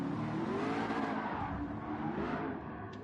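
A Ferrari-style race car engine, a 1965 Le Mans race car in a video game, roars steadily at high revs, then the pitch shifts and eases slightly, loud and continuous throughout.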